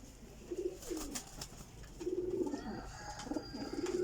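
Kasuri type pigeons coo in low, rolling phrases repeated every second or so, close by, over faint background noise.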